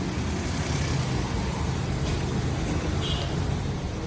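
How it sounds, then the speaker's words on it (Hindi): A Suzuki Alto petrol engine with a cylinder one misfire idles steadily after being started, a continuous close rumble with a low throb and broadband hiss, unchanged for the whole stretch. "गाड़ी मैंने स्टार्ट कर ली"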